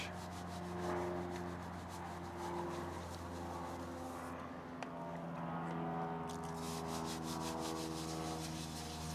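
A brush scrubs brake dust and grime from the inner barrel of a car wheel, giving a steady, close rubbing and scraping with no talking.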